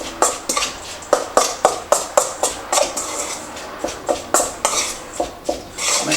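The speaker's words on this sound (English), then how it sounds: "We are just going to put everything we've got into the bowl, mixing it up thoroughly." A spoon clinks and scrapes rhythmically against a bowl while cashew cocoa energy ball ingredients are stirred together, giving a steady run of close, bright taps with no talking.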